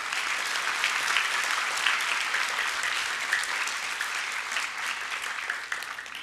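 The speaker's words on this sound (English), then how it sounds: "So I'll give them a round of applause." At a grade 5 promotion ceremony, an audience gives teachers a steady round of applause, an even, continuous wash of clapping heard at moderate distance.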